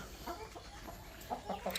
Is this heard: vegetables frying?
no